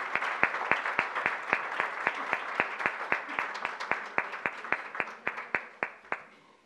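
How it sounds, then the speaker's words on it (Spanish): Applause from the audience at a book launch, heard as distinct, evenly spaced claps that sound like one or a few people rather than a large crowd, moderately loud and alone, with no talk over it. "un fuerte aplauso para estas personas"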